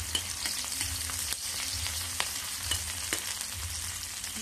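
Onion and garlic sautéing in a pan, a steady close sizzle with occasional sharp clicks from stirring, no voices.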